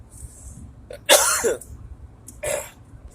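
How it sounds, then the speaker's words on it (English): A person gives a smoker's cough twice, a harsh, rough hack followed by a shorter second cough, close by with quiet pauses between. "It's a smoker's cough."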